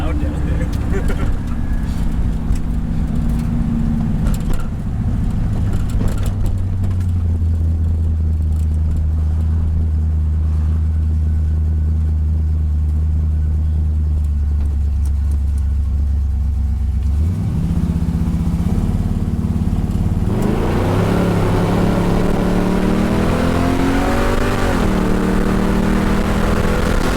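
A Pontiac Firebird's engine roars steadily through a long burnout, holding a loud low drone before pitching up and down as the throttle changes, with people talking over it.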